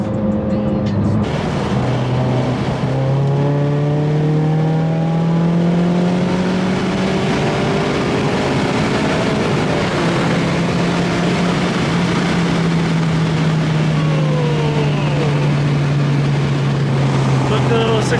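An Acura RSX accelerating hard from 60 to 120 mph, heard from inside: a loud, continuous engine drone rising in pitch through successive gears, with wind roar behind it.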